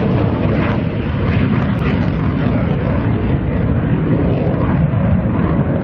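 A Denel Cheetah C jet fighter runs at full power during an air show, a loud, steady roar of broad engine noise that holds for several seconds without a break.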